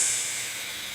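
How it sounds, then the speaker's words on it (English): An air compressor blowing dust out of tight corners while restoring a rusty 1967 Ford Mustang, a close, steady high hiss of compressed air that slowly fades. "The air compressor hissed softly as I blew dust from tight corners"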